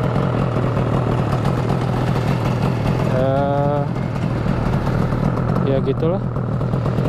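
An old two-cylinder cruiser motorcycle with left and right exhausts idles steadily and close by, a continuous low rumble heard throughout as someone talks over it.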